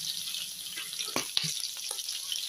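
Garlic and onions sautéing in a pan for ginataang kalabasa, giving a steady close sizzle with a few sharp utensil scrapes and clinks, no voices.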